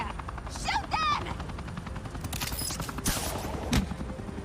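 Gunfire in the Batman Telltale Series video game: rapid bursts of shots crackle over a droning helicopter-like rumble, with a few sharp louder cracks, and game voices talk amid the firing.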